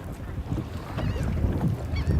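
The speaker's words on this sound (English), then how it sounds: "The old birds have located us a few fish." Geese or other water birds honking over open water beside a boat while speckled trout fishing in Louisiana, scattered calls rising above steady wind noise on the microphone.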